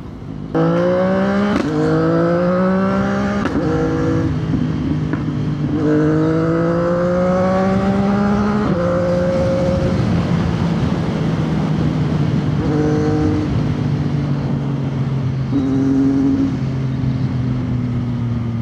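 A CFMOTO 675NK motorcycle fitted with a new muffler revs close and loud, its engine pitch climbing and dropping through several throttle blips before settling into a steady idle, with no voices.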